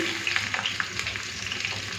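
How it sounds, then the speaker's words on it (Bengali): Kundri (ivy gourd) fries in a pan with salt, a close, continuous sizzle broken by soft stirring scrapes and light clicks. "কুন্দরি ভাজার সময় দিয়ে দিচ্ছি নুন"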